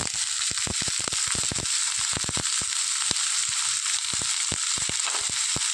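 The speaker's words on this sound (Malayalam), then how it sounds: "അതോടൊപ്പം തന്നെ നമ്മൾ എടുത്ത് വെച്ചിരിക്കുന്ന സവോളയും കൂടെ ചേർത്ത് കൊടുക്കാം." Sliced onions hit hot oil in a pan for a green chilli dish, giving a continuous loud sizzle broken by rapid sharp crackling pops, close up with no talk.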